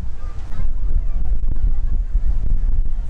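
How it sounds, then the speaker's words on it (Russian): A strong wind roars across a sandy resort beach in Turkey, set with loungers and umbrellas, as a loud, constant low rumble close to the microphone. "Вход небольшой, дует сильный ветер."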